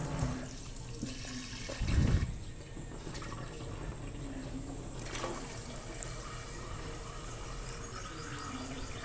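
Water pours steadily into a cooking pot, a continuous close splashing flow with a brief louder gush near the start.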